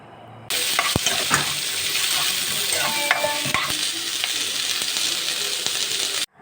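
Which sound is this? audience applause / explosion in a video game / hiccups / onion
onion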